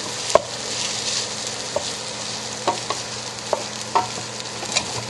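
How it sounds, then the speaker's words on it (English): Steady sizzling of rice frying in oil in a pan for shrimp fried rice, with occasional scraping and tapping of a utensil as it is stirred. "here's where we're going to do our frying of our rice"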